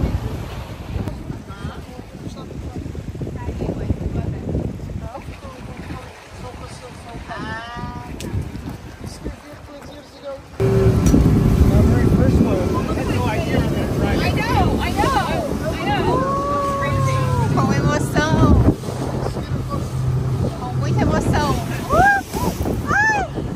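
Boat motoring over choppy sea along the southern Portuguese coast near the Benagil caves, heading into a coastal cave; steady engine rumble with waves and heavy wind buffeting, growing louder midway, with excited voices talking over it.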